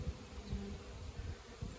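Buckfast honey bees buzz around an open hive, a low continuous drone with pulsing swells from bees flying close to the microphone, steady and fairly quiet with no voices.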